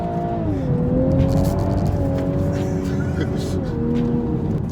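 Toyota Supra on a track, its engine revving with a wavering, rising and falling note as the rear tyres slide and squeal, loud and close, with a voice talking over it.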